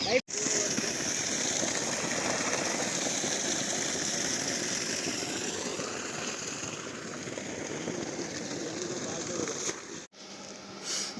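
Water gushes steadily from a 1200 W AC/DC BLDC solar pump at a farm in Oothukuli, a continuous loud rushing splash with a faint motor whine, briefly cut near the end before resuming.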